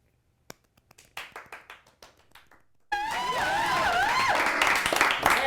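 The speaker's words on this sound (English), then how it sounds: "let's have a round of applause for our first comic" Scattered claps at a comedy club swell into loud, sustained audience applause with cheering and whoops, welcoming the first stand-up comic onto the stage.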